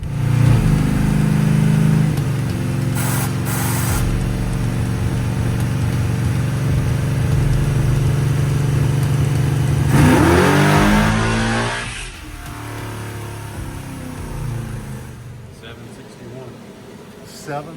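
A carbureted car engine running a two-stage nitrous kit, 150 then 200 horsepower, revs hard on a dyno. It holds a loud, steady roar for about ten seconds, then winds down abruptly and fades.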